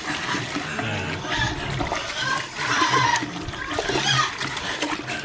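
Water is poured by dipper into animal feed mix, with splashing and pouring sounds coming in repeated surges. Pigs and low background noise can be heard underneath.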